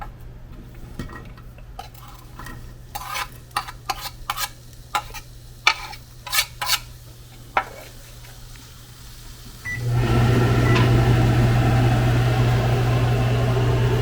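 Diced onion hits a small pan and settles into a steady sizzle, loud and continuous after scattered clinks of utensils and light kitchen handling.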